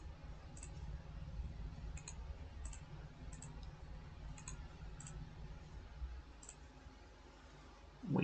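Computer mouse clicked several times at irregular intervals, each a tiny crisp tick, quiet and close over a steady low electrical hum.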